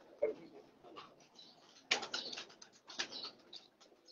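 A champion racing pigeon coos softly in short, separate bursts, faint and close, with a brief flutter of wings partway through and no talk.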